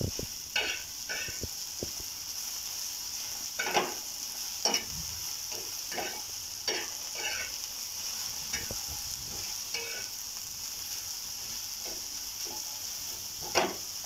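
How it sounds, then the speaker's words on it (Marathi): Onion fries in a pan over medium heat, with salt added, giving a soft, steady sizzle broken by repeated scraping stirs at irregular intervals. "कांद्याला लालसर रंग येईपर्यंत आपल्याला भाजून घ्यायचं आहे।"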